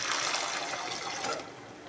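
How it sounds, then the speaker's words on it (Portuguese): Water is poured over a pancake during meal prep, a steady close splashing stream that runs for nearly two seconds before easing slightly. "Agora eu vou colocar um pouquinho de água"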